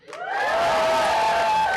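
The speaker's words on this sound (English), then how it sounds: "Your applause and laughter has been well rehearsed." Live theater audience at a radio station's intimate concert session erupts in cheering and whooping, swelling quickly to a loud, sustained roar with high shouts riding on top.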